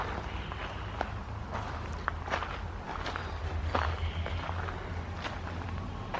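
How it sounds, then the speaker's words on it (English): Footsteps crunch on a gravel path in a botanic garden, a steady walking rhythm of close scrunching steps over faint outdoor background noise. "Don't you love the sound of gravel scrunching under your feet when you walk along the path?"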